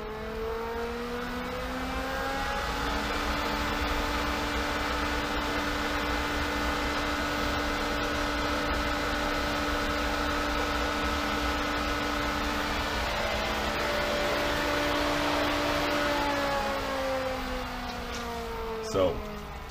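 A swimming pool pump motor spinning at 3,450 RPM gives a loud, steady hum with a whining tonal drone and a rushing, fan-like hiss. The pitch shifts slightly near the start and again toward the end, and there is a small knock just before it stops.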